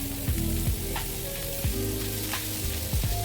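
Bread laid on a hot buttered tava sizzles steadily and close, a continuous frying hiss broken by a few soft scrapes and knocks, with no one talking.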